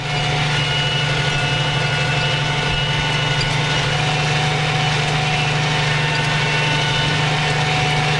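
A non-turbo tractor engine runs steadily at around 1,400 to 1,500 RPM, a loud continuous drone with a strong low hum and no break in tone throughout.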